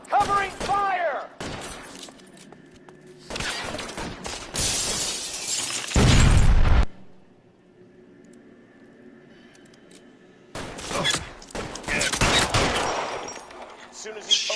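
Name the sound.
gunfire in a shootout, from the video game LA Noire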